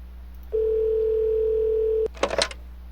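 A steady telephone dial tone drones evenly for about a second and a half inside a basketball video game, then cuts off abruptly and gives way to a brief burst of clicking, jumbled game noise.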